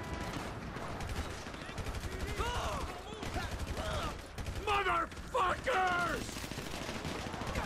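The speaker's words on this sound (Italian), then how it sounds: "ci hanno sparacchiato, ragazzi, ci hanno sparacchiato" Gunfire rattles through a GTA V shootout: repeated bursts and shots mixed with mechanical clacks, fairly loud, while someone shouts excitedly over the fighting.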